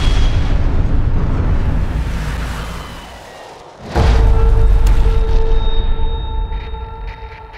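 Artillery strike in a war film trailer, a heavy rumbling blast that fades and then a second loud explosion bursts in and roars on, with a lingering high tone after.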